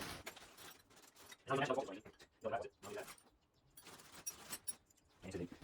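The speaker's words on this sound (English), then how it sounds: "So let me get my trusty Allen keys out." Allen keys jangle and clatter as they are pulled out during a shower head and diverter trim plate install, a few loose metallic bursts of clinking spread over several seconds, fairly close.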